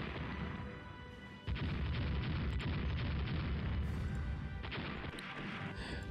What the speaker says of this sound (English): We hit it with a torpedo and it sank.